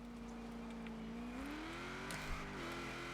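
Classic Ford fitted with a naturally aspirated 6.2 litre LS V8 in Forza Horizon 4, engine note climbing steadily as it accelerates, a smooth rising drone with a brief shift-like dip, no talk.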